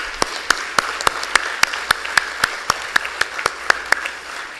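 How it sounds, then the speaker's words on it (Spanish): An audience applauds at an education symposium, a steady patter of many hands clapping with sharp individual claps standing out in a regular rhythm, moderately loud throughout, with no voices over it. "Un aplauso, por favor."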